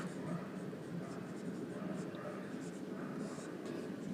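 A pen scratches steadily across paper during a Hindi sociology lesson, the continuous writing running the whole time beneath a soft voice in the background.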